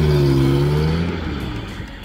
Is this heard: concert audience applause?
no